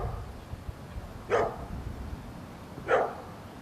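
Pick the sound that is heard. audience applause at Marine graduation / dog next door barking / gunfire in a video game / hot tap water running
dog next door barking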